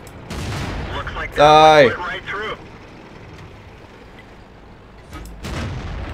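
Tank cannon fire in the World of Tanks video game, with a Type 62 tank: a few sharp, heavy booms, one near the start and another burst near the end, with an excited voice shouting in between.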